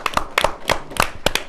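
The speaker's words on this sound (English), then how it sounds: "Everybody, a round of applause for Jill." A small group applauds during a sports talk show's series finale, with a few close, sharp hand claps coming in uneven clusters for a moment.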